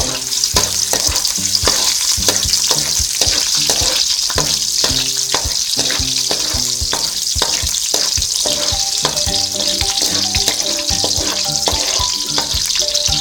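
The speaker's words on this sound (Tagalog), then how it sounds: "Ngayon pong mainit na ang ating mantika ay igigisa ko na po yung bawang" Garlic sautéing in hot oil in a kawali pan crackles in a loud, continuous sizzle, with rhythmic background music playing throughout.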